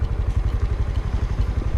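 An automatic scooter's small engine runs close by in a steady low throbbing pulse while a beginner rider gives gas, a rhythmic putter with no talking.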